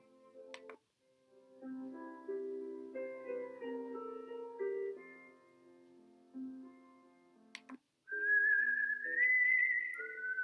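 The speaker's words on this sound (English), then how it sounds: "That's just whistling, like a shaman or something." A sound machine plays melodic whistling, a series of clear sustained tones forming a tune, played quietly, with a higher, louder whistled passage toward the end and brief clicks between sections.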